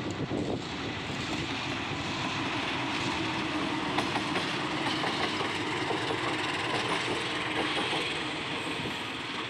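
A steady, loud rumble of a long-distance passenger train rolling past nearby on double track near Pondok Jati station, with continuous rail noise and faint clattering throughout, no voices.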